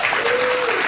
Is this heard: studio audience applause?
yes